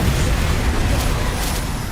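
Confringo fire-blast spell in Hogwarts Legacy on PC erupts in a loud, sustained explosive roar, heavy in low rumble, staying steady for two seconds.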